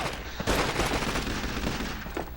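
Breda machine gun fire in the World War II shooter Call of Duty 2, a dense sustained burst of rapid gunshots filling the moment, loud and close with battle noise around it.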